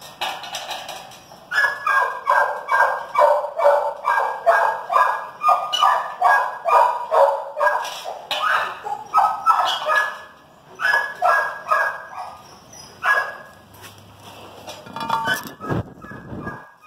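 Pit bull dogs bark in a springpole test, loud rapid volleys of close barks in bursts with brief pauses, tapering into scattered yips toward the end.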